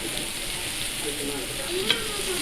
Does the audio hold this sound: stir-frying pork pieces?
yes